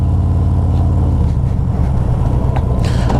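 A 2022 Harley-Davidson Road King motorcycle with a 113ci engine rumbling loud and steady during a ride, a deep throbbing idle-like pulse with wind noise on top.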